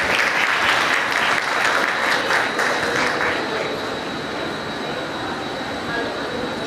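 A seated crowd at a Women's Day celebration in Ballari claps steadily and loudly as a guest is invited onto the stage, the dense applause thinning slightly toward the end.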